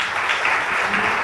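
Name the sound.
audience clapping at a workshop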